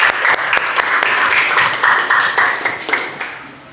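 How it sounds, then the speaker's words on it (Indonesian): A classroom audience claps for a student, a dense burst of applause lasting a few seconds and tapering off at the end. "Tepuk tangan untuk Mbak Diva Natasha"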